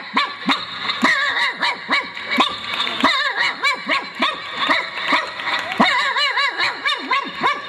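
A performer on a Malayalam comedy stage imitates a native street dog's bark with his voice, a rapid run of sharp yelping barks and whining howls, with audience laughter mixed in.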